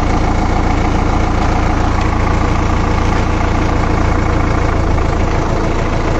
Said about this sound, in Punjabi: ਹੁਣ ਮੈਂ ਇਹਨੂੰ ਚਲਾ ਕੇ ਦੇਖਦਾ ਟਰੈਕਟਰ ਨੂੰ।